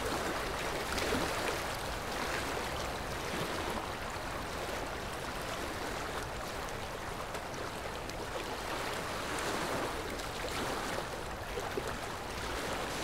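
Water from the Mordarya waterfall flows in a steady, broad rushing wash, fairly faint and even throughout, with no voices.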